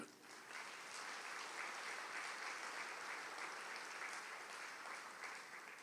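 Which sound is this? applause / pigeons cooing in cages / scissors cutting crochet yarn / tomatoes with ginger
applause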